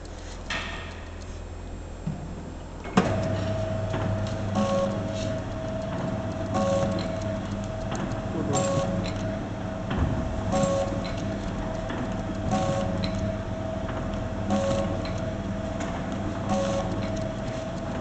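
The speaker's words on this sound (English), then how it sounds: "Now we start the machine." A single-lane automatic liquid packing machine starts running empty, with its pump working. After a short quiet stretch, a steady mechanical drone begins, carrying a sustained tone and regular ticking clicks throughout.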